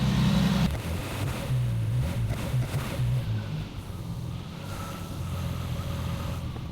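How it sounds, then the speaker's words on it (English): A Triumph TR6 engine converted from carburettors to Patton Machine fuel injection runs with a steady low rumble that rises briefly as the throttle is blipped, then settles into a constant idle. "So now we can start the car and go for a drive."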